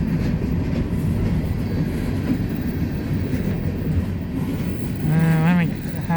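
BNSF freight train rolling northbound through Napavine, Washington, a loud steady rumble with clattering wheels that fills the scene, close by, with a short horn-like tone near the end.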